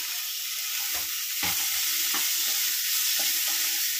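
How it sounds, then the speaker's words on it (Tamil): Tomatoes, mint and curry leaves are mashed and stirred in a hot pan, giving a steady sizzle with several dull knocks and scrapes of the spoon against the pan, close by. "ஸோ இதுவும் நல்லா மேஷ் ஆகட்டும்."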